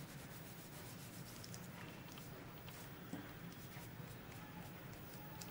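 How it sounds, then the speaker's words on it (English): A wipe rubs quickly over an embossed image coated in Faber-Castell Gelatos colour, giving a faint, steady scrubbing and swishing close by with no pauses. "rub over the embossed image"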